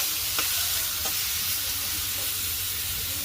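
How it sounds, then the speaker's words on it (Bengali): Radish, already boiled, is stirred into shrimp frying in a pan, giving a steady close sizzle with a couple of faint scrapes of the spoon and no talk. "আমি এখন আবার একটু নাড়াচাড়া দিচ্ছি।"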